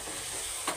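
Chicken stew with coriander sizzles in a pot while being stirred, a soft steady crackle with one quick scrape of the spoon near the end.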